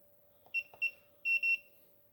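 A Teknim Pars GSM burglar alarm panel keypad beeps on key presses. Four short, clear electronic tones fall in two pairs over a faint steady hum, close and alone.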